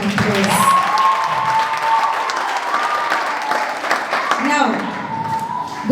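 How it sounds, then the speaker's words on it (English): Audience applause at a school book fair, a sustained close wash of clapping from a crowd with voices mixed in and whoops of cheering toward the end. "let's give her another round of applause"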